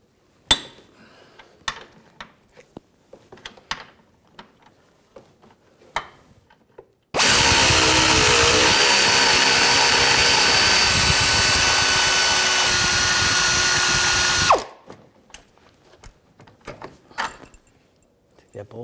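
Power tool spinning an 18mm socket to remove a bolt on the front strut of a 2007-2013 BMW 328i, a loud continuous whir lasting about seven seconds, framed by quieter clanks and handling noise.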